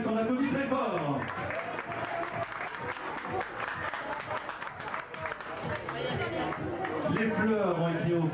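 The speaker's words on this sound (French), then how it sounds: "On applaudit très fort." An audience at a hair salon show applauds and cheers continuously, a dense wash of clapping with crowd noise, while a presenter speaks over it.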